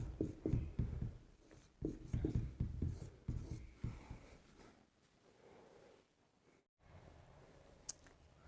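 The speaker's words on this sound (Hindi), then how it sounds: "इसके लिए हम कुछ नोट लिखेंगे।" Notes handwritten with a pen on paper, bursts of scratchy strokes in the first half, then quieter and sparser marks with one sharp tick near the end.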